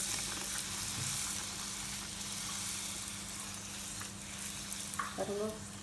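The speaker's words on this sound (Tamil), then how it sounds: "இப்போ பாருங்க பொரிஞ்சு வந்திருக்கு." Poori deep frying in hot oil, a soft continuous sizzle and bubbling close by with a few clinks of a utensil, under quiet speech.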